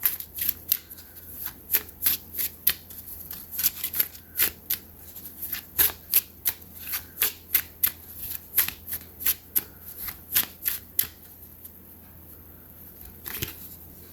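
A deck of cards being shuffled and riffled repeatedly, with crisp rapid flutters and snaps in a steady rhythm, close-up and clear, tapering off near the end.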